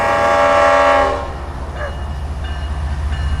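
A train sounds its horn loudly as it arrives on the Florida main line at night, the blast lasting about a second before fading into the steady rumble and rhythmic clatter of passing railcars.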